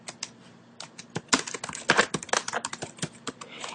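Rapid typing on a computer keyboard, close and crisp, with irregular bursts of keystrokes that quicken into a dense flurry before trailing off.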